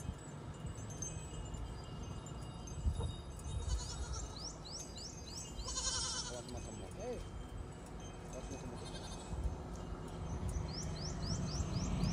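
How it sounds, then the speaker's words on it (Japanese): A herd of goats bleats on a roadside in Thailand, several calls scattered across the scene at moderate distance, with birds chirping and a quiet background hum. "途中にね、ヤギの集団に"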